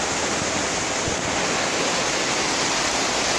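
Heavy rain and strong wind in Manado form a loud, dense, unbroken roar of downpour and gusts, with no voices.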